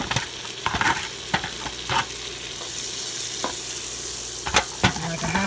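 Chopped onion and young broccoli sauté in a hot pan, a steady sizzle broken by repeated sharp clacks and scrapes of a utensil stirring the vegetables.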